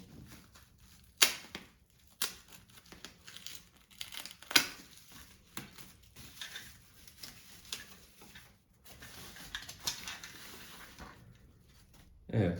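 Packaging for a small part of a Samsung Odyssey CRG9 49-inch gaming monitor being opened, with sharp crinkling and tearing bursts, rustling in between and quiet handling at close range.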